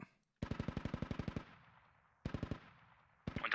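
Gunfire in the video game Squad: a rapid, loud automatic burst of about a dozen evenly spaced shots with a short echoing tail, a pause, then two more bursts, no talk.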